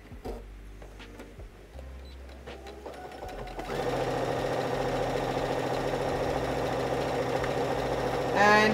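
A sewing machine stitches the front seam of a beach cover dress. After some handling clatter, the motor starts and runs in a loud, continuous whirring drone, close to the listener.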